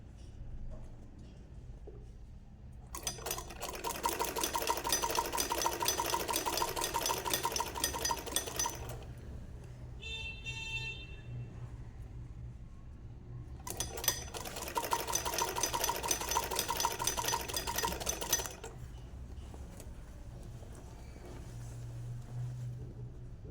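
A sewing machine stitches a straight seam along a sleeve while elastic is set into it, running in two long steady bursts of several seconds each with a quiet pause between.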